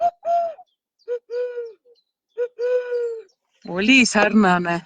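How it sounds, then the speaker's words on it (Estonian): A stock dove gives three soft, low cooing phrases with pauses between them, close and clear, followed by a person speaking at the end. "Proovime. Õnnetuvi."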